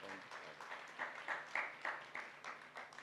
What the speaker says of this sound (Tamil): நம்முடைய சிறப்புமிக்க நன்றியை கைத்தட்டி நாம்